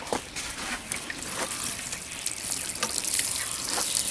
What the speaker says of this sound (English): And let's water it in again.